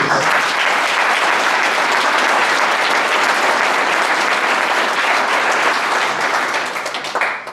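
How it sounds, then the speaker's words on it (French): A political rally audience applauds the security staff in a dense, loud, continuous wash of clapping that holds steady for several seconds before easing slightly at the end, with no voices over it. "je pense qu'il faut applaudir nos amis du DPS"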